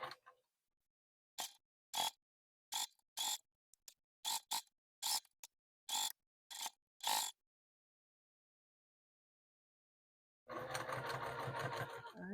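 A sewing machine stitches around an oven mitt in a string of short, sharp bursts with silent gaps, then runs in one long continuous stretch.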